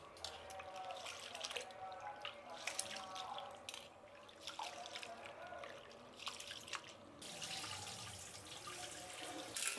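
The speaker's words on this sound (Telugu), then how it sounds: "ఈ బియ్యం ఇలా కడుక్కునేసి ఎండకు వేయాలండి" Rice being washed by hand in water in a kitchen, soft quiet splashing and dripping with a trickle of water, faint and close.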